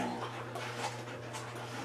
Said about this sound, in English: My dogs are getting a little rambunctious